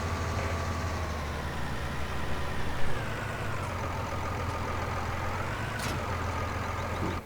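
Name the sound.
tractor engine in Farming Simulator 19 video game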